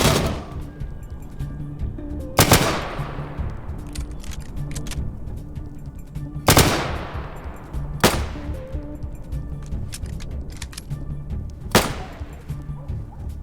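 Gunfire in the post-apocalyptic RPG ATOM RPG: Trudograd: four loud, sharp single shots spaced a few seconds apart, each ringing out with a decaying tail over a steady background of game ambience.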